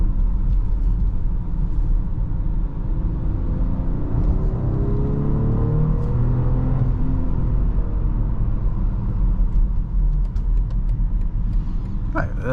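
Steady road rumble and engine whir from inside a 2024 BMW X5 40i M Sport at highway speed, continuous and fairly loud, with the engine note swelling briefly midway.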